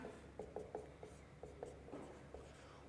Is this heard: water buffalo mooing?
no